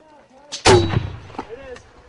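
An artillery high-explosive round fires during a firefight between British SAS, US Marines and Taliban, one loud close boom with a rumbling tail, then scattered shouting voices.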